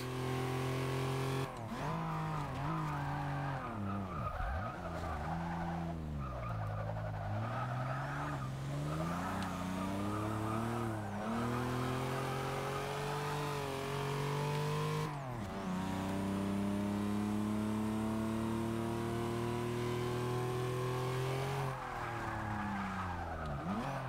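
A 1991 GMC Syclone truck lapping a race track, its engine droning loud and steady throughout, pitch rising and falling with several sharp drops as it downshifts into corners, with tire scrubbing and no talking.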